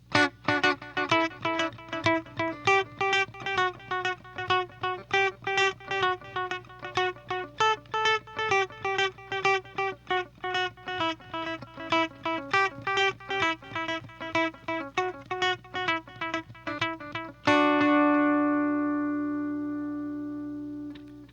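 Electric guitar played through a Catalinbread Belle Epoch tape echo pedal at high delay time, a steady run of picked notes with repeating echoes, ending on a sustained chord whose spacey repeats ring out and decay alone.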